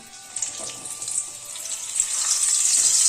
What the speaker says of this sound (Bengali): এবার এই থোকাটাকে একটু তেলে ভাজবো নেড়ে নেব